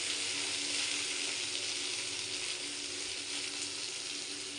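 Food sizzles steadily in a pan as a sour and spicy home-cooked dish is fried, a dense continuous hiss at even loudness, close by, with no talking.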